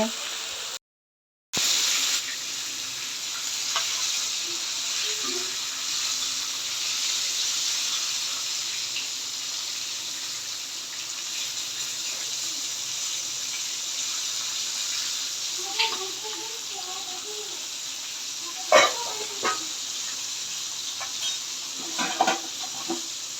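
Rohu fish head frying in a pan, with a steady, sustained sizzle and hiss of hot oil, a few faint clatters and small pops over the top, and no talk.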